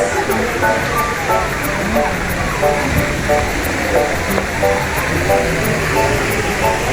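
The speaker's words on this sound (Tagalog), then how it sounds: "Ayun pala, yung falls." Daranak Falls in Tanay, Rizal, roars in a loud, steady wash of falling water from nearby, with a crowd of people talking and calling out over it throughout.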